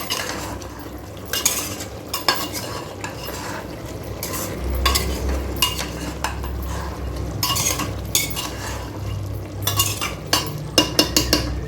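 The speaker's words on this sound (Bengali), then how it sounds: "এবার আমি ভালো করে নেড়ে দিচ্ছি" A spoon stirring Bengali chicken curry in a pot, producing repeated close scraping and clinking strokes against the metal in an uneven rhythm over a soft sizzle, with no talk.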